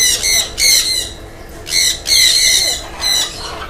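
Loud, harsh squawks from birds in a free-flight aviary at an animal garden, coming in repeated bursts close by with a steady wash of outdoor noise between calls.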